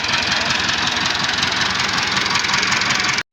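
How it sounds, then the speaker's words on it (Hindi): An old, powerful tractor engine runs loud and close with a steady, rough, knocking chug at idle, unchanging until it cuts off abruptly at the end. "ट्रैक्टर ही माशाल्लाह बड़ा पुराना ट्रैक्टर है तो पावरफुल ट्रैक्टर है"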